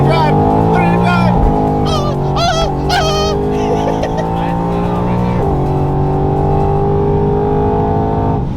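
A 700 whp procharged Ford Mustang pulls at full throttle, its loud engine note rising and dropping through gear changes with brief tire chirps, while people talk and shout over it inside the car.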